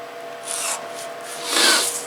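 A tool is drawn across leather around a gun mold to mark a stitch line, giving a few soft, close scraping strokes in short rubbing bursts over a quiet background.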